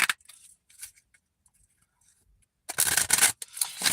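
Quick riffling bursts of tarot cards being shuffled, a short flurry at the start and a louder run near the end, separated by quiet.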